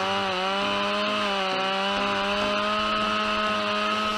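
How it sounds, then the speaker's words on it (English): Stihl MS-881 chainsaw cutting wood in a forest, a loud, steady high-revving engine whine held throughout with slight pitch wavering as the chain bites. "This sharp and powerful saw helps her cut wood easily and quickly"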